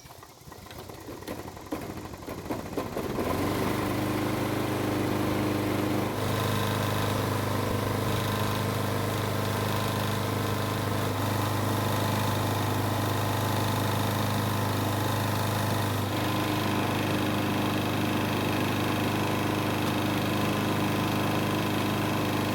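A John Deere lawn mower's small engine, freshly fueled and primed, coughs briefly, then catches and settles into a loud, steady running drone that holds close and continuous, with a slight shift in tone partway through.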